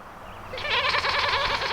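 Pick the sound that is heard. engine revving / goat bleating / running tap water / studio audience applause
goat bleating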